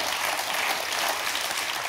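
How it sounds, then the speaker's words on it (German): A studio audience at a German quiz show breaks into dense, continuous applause, steady and fairly loud throughout the short stretch with no voices over it. "Oh, da gibt es Applaus für."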